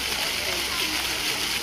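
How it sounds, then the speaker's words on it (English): Fountain water feature outside the Luton Arndale shopping centre splashing in a steady, continuous hiss with no let-up, a dense wash of falling water heard from close by. "It's a water feature outside Luton Arndale Centre."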